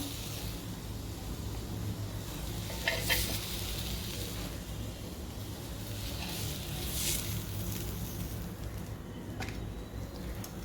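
Tandoori chicken pieces cooking in a pan, giving a steady, close, even sizzle throughout with a couple of brief clinks or scrapes and no talking.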